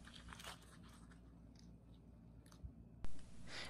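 Crispy Chinese donut fritter being bitten and chewed up close, with crunchy crackling bites through the first part and one sharp, loud crunch near the end.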